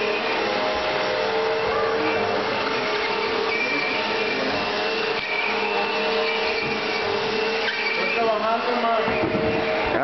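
A household vacuum cleaner runs steadily for the whole stretch, a continuous whining motor drone with shifting tone as it moves across the floor, while people talk faintly underneath.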